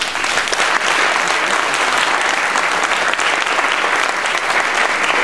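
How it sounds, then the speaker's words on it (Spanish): Steady, full applause from a concert audience at a chamber orchestra event in Cusco, continuous clapping at an even level throughout with no speech over it. "Un voto de aplausos para ellos."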